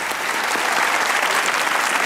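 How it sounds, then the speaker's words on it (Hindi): Studio audience of a Pakistani comedy talk show gives steady, dense applause, a close, even wash of many hands clapping without pause. "तालियां बजाएं सर"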